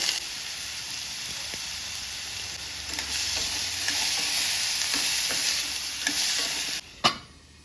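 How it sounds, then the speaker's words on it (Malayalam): Sliced bitter gourd and green chillies fry in a pan with a steady, close sizzle, broken by occasional scraping stirs and a sharp clatter near the end. "രണ്ട് മൂന്ന് പച്ചമുളകും ഇട്ടുകൊടുത്തിട്ട് ഒന്ന് വഴറ്റിയതിന് ശേഷം നമ്മുടെ പാവക്ക കട്ട് ചെയ്തത് അതിലേക്ക് ഇട്ട് കൊടുക്കുക"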